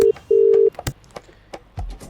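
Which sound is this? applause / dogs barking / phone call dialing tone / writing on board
phone call dialing tone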